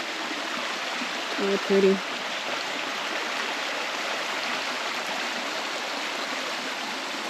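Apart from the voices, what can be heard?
stream flowing in the woods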